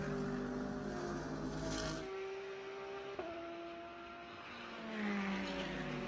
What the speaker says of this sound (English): really searching for every ounce of grip from that Pfaff Motorsports Porsche coming through the right-hander